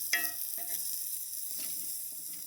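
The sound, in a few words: deer heart sizzling in a pan over a fire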